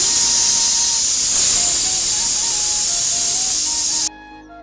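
A pressure cooker vents steam while boiling lentils. A loud, close, continuous hiss carries faint wavering whistle tones, then cuts off sharply near the end.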